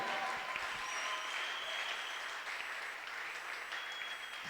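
Audience applause at a church worship gathering: sustained, dense clapping from a large crowd that holds steady throughout, with no talking over it.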